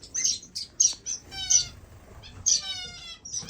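Finches and waxbills in an indoor bird room give bright, high chirps and short trilling calls in quick bursts, close by, with brief pauses between phrases.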